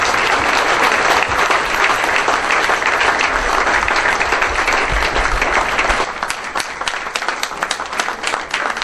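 An audience applauds at a Tamil Canadian celebration of Dr K J Yesudas's 50th anniversary. The clapping is loud and sustained, then thins after about six seconds into scattered, individual claps.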